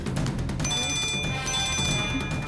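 A telephone rings indoors in a Tamil drama scene, a steady electronic ringing tone with sustained high tones over a dense background, continuous and fairly loud for the whole stretch.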